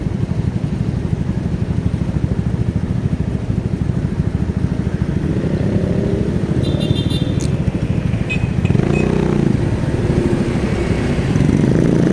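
Vehicles speed along a road at night, engines droning continuously as they pass nearby, with one sweeping by more loudly near the end.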